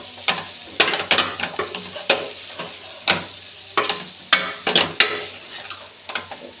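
Three or four potatoes being stirred in a frying pan, with a soft sizzle beneath a series of close, uneven scraping and tapping strokes of a spoon against the pan, and no talk.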